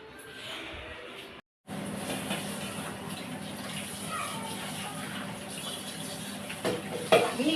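Dishes being washed under a running tap in a home kitchen, with a steady stream of water pouring continuously at close range and a short break near the start.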